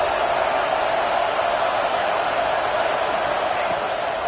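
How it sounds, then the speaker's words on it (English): A loud Alabama Crimson Tide football crowd roars steadily at the stadium on third down, a continuous wash of massed noise that holds without letup. "The Tide crowd rolling noise down on the Saban Field on 3rd down"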